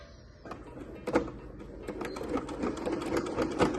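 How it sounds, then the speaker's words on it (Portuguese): A sewing machine stitching a short run forward and then in reverse, its motor rattling in quick bursts that build into a steady close whir. "E vou abaixar minha agulha, fazer uma costurinha pra frente e depois dou o retrocesso, tá?"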